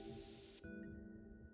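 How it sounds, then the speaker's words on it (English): Luminol spray from the video game Zero Time Dilemma, a single short loud hiss that cuts off abruptly, leaving quiet game ambience. "Luminol spray, okay."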